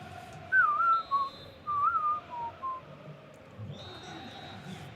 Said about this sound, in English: Final whistle sounds not long after.